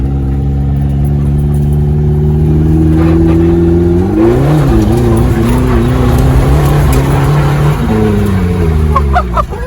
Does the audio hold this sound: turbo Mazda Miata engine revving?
yes